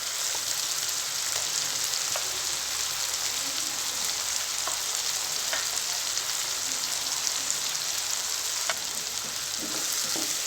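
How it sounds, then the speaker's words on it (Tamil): Ground curry leaf paste sautés in hot oil for curry leaves kulambu, a continuous dense sizzle with scattered sharp crackles and spatters, close and even throughout, with no voices. "இப்போ இந்த பேஸ்ட்டையும் இந்த எண்ணெயில் சேர்த்தி கொஞ்சம் நேரம் வதக்கிக்கலாம்."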